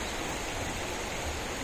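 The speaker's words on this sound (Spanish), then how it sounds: "aquí se unen dos ríos" Broad steady rush of flowing water where two clear rivers meet into one, continuous and fairly loud with no voices over it.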